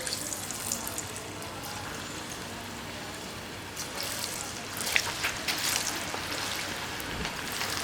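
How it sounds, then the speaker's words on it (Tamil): Cauliflower fries in hot oil in a kadai, giving a steady, dense, rain-like sizzle close up that swells slightly midway, with no talking. "இப்போ வந்து மிக்ஸ் பண்ணி வச்சுருக்கிற காலிஃப்ளவரை வந்து எண்ணெயில் போட்டு பொரிச்சு எடுத்துக்கலாம்."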